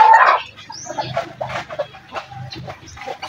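Hens cluck softly in a shaded farm shelter, low broken murmurs and short calls scattered throughout, with a louder squawk at the start.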